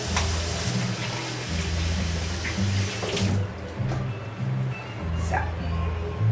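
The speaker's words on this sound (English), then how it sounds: "So first I'm going to wash my hands," Tap water runs steadily into a kitchen sink as hands are washed under it, a close, continuous splashing rush with brief shifts in flow, while a person talks over it.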